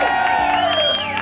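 A crowd outdoors in São Paulo cheers and whoops for a man called Preto, with shouted voices and a sliding yell over the noise, brief and loud.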